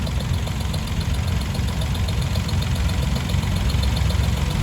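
An Allis Chalmers D10 tractor engine idles at a classic tractor show, giving a steady, loud, close rumble with an even low knock and no talk over it.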